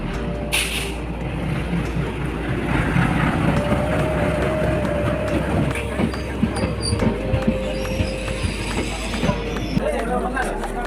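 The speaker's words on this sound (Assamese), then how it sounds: "ট্ৰেইনত উঠি ল'লোঁ," Train rolling on rails on the way to the Malini fair at Likabali, Arunachal Pradesh, heard from inside the carriage as a continuous rumble with faint clatter and a light squeal, steady throughout under background voices.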